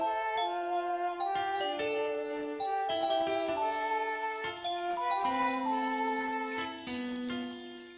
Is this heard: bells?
yes